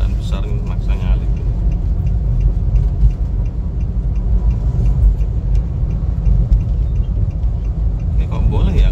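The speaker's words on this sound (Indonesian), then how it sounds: "wow ini kendaraan besar nih maksa nyalip" A large vehicle overtakes on the Pantura road between Pasuruan and Probolinggo, a steady loud engine rumble and road roar close by, continuous throughout.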